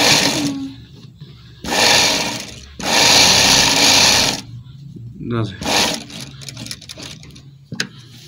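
A sewing machine stitching the side pocket of a men's kurta, running in several loud bursts of a few seconds each with pauses between, and a voice speaking between the runs.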